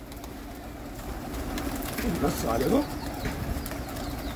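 Pigeons cooing at a pigeon-keeping spot, a soft throaty coo rolling briefly in the middle under steady background noise, with people talking nearby.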